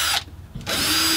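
A cordless drill driving screws runs in two loud bursts separated by a short pause, its motor whining steadily as it drives, close by.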